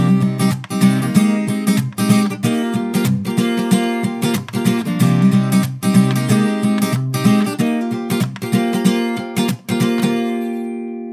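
An acoustic guitar plays the intro to a song alone, with steady strummed chords and hammered-on notes in a bright, even rhythm that ends on a ringing chord.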